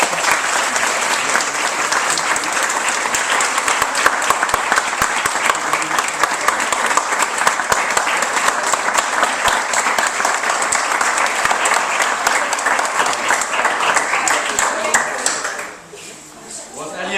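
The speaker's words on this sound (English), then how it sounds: "Just one more round of applause, please, for Elliot" An audience gives a speaker a long, loud round of applause at a business event, dense clapping that stays steady for about fifteen seconds before dropping away abruptly near the end.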